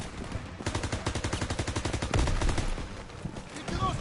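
Rapid bursts of automatic and rifle gunfire in a World War II shooter game, Call of Duty WW2, with loud repeated shots rattling in a steady stream and a heavier blast midway.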